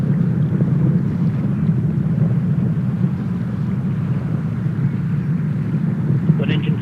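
First-stage rocket engines thunder during the launch of Orion's first flight test, a steady, heavy low roar with wind-like rumble that holds without letup.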